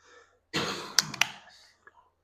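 A person clears their throat in a couple of harsh bursts, followed by a few faint clicks and a short sound at the end, heard up close in a quiet room.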